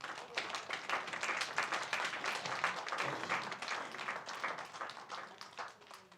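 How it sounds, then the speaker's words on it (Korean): A church congregation claps steadily for a young student, a dense, even patter of many hands that carries on throughout, moderately distant in the room. "우리 양소희 친구에게 박수 한번 하십시오."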